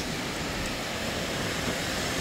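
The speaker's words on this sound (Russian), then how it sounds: "Волны, это океан такой страшный, большой." Ocean waves wash in a steady, dense roar of surf, a loud continuous rush with no distinct breaks and no talking.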